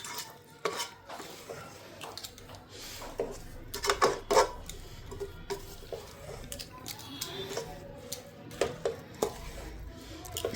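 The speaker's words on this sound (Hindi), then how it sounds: "इसको अच्छे से मिक्स कर लेंगे" Sesame laddu mixture stirred in a pan, a spoon scraping and clinking against the metal in irregular strokes, close by and moderately loud with no talk.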